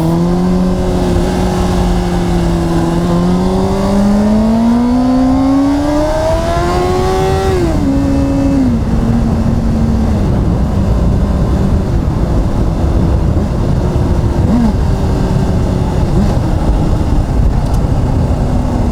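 Honda CBR600RR motorcycle engine revving up through a rising whine, then shifting and settling into a loud steady drone as it accelerates away, close and continuous.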